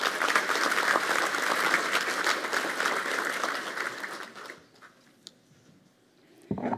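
Audience applause at an academic year inauguration ceremony at Koszalin University of Technology, a dense, steady clapping from a large hall that fades out after about four and a half seconds, leaving quiet room noise and a brief thump at the end.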